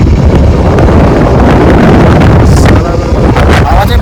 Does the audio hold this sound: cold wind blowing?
yes